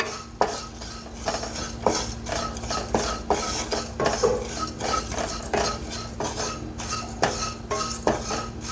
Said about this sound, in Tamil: நம்ம நல்லா சூடு ஆகிற வரைக்கும் வறுத்துக்கலாம்.